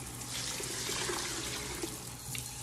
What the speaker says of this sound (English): So we're gonna put 12 cups of water,